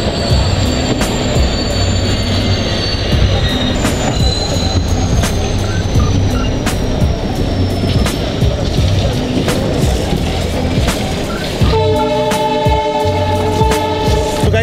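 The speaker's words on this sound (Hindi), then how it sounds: "ये ट्रेन को EMD डीजल लोकोमोटिव लगा, उसका आवाज़ और उसकी हॉकिंग तो बहुत लाजवाब थी" An Udyan Express train hauled by an EMD diesel locomotive rolls through the Makali Durga ghat section with a loud, steady rumble and squealing wheels, then a sustained horn blast near the end.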